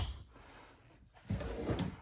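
A drawer in a 2025 Arctic Wolf 3800DECK RV slides and bumps shut, a soft close knock followed by a brief rumble, faint and nearby.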